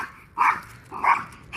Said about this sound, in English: I said no barking.